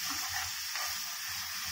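Garlic fries in oil for tomato thokku, a brief soft hiss of sizzling that stays fairly level and close, without voices.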